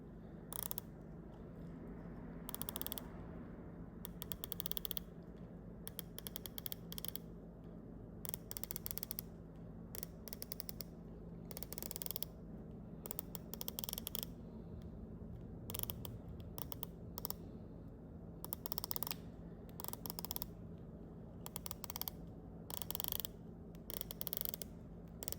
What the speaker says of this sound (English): let's go ahead and begin with the actual clicking action and sound